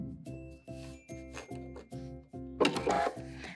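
Sewing machine top-stitching and backstitching an apron pocket, a run of even, rhythmic mechanical stitching pulses, then a louder burst of rattling near the end, all fairly faint with no talk.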